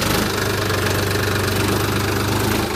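A Sonalika DI 50 RX Tiger tractor with a 52 HP diesel engine runs close by, its rhythmic knocking idle loud and steady with a regular chugging pulse.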